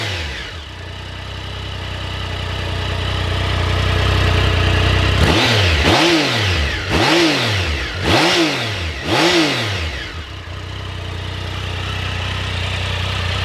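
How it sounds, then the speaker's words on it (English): A Triumph three-cylinder motorcycle idles, then is blipped four times in quick succession, each exhaust rev rising sharply and falling back, before settling to idle again. "So just give the throttle a blip so you can hear the exhaust."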